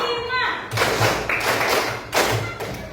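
A classroom of children claps out a short patterned rhythm game, a few sharp group bursts of claps and thumps, with a teacher's voice over the room.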